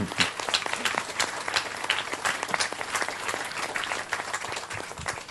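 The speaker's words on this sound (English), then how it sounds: "We should applaud Rumi for that." Sustained audience applause from a lecture crowd, dense steady clapping filling the room throughout with no speech over it.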